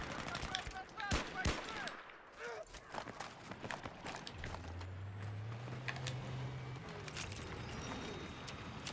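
Sharp bursts of gunfire crack in a Battlefield 3 match, a cluster of loud shots early on followed by scattered quieter rounds and a voice talking.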